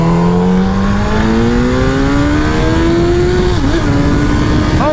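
A motorcycle engine, a ride with an ignition miss, revs up steadily and loudly throughout, its pitch climbing, dipping briefly as a gear is shifted by clutch, then holding under wind and road noise.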